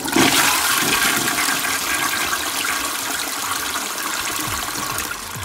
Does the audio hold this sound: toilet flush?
yes